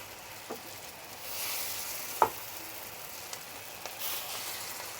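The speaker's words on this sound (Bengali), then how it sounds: "একটু বেশি বেশি করে লাল লাল করে ভেজে আমি বড়াগুলি করে নিচ্ছি" Small motor dal (pea lentil) pakoras fry in oil, a soft, steady sizzle with a few faint clicks and a louder tap, heard quietly from close by.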